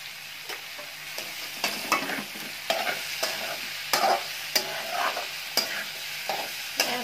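Mixed vegetables sauté with turmeric in a pan for bhogi bhaji (khengat), a soft sizzle broken by regular scraping strokes of a spoon stirring, close and fairly quiet, with no talk.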